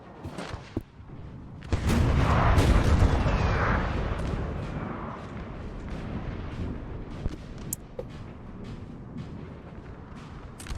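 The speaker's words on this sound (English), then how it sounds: "But you can see the Russians getting hammered by that artillery already." Cannon and artillery fire rolls across a Napoleonic battlefield in the strategy game Napoleon Total War, where the Russians are under bombardment at Dresden. A sustained wave of heavy booms and rumbling blasts is followed by scattered distant shots and cracks.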